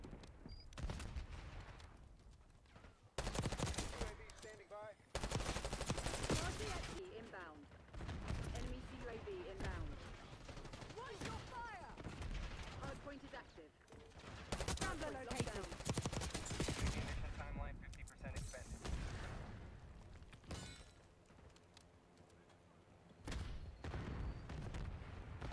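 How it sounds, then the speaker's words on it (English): Submachine-gun fire in Black Ops 6 on the Nuketown map, coming in repeated loud bursts and rapid volleys across the stretch, with a player's voice talking over parts of it. "now let's get my SMG out now"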